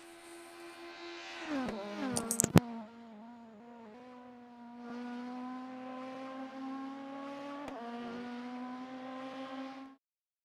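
Sim racing cars battle on track in the AROC Racing Leagues TLP Tasman Trophy: a steady, buzzing engine whine drops sharply through a gear change, with a brief clatter, then holds a sustained drone before cutting off.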